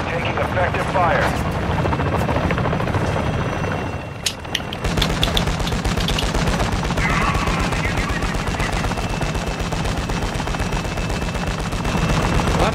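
In a video game battle, a helicopter's steady rotor roar runs under dense bursts of machine-gun fire and booms, with radio chatter and voices talking over the din.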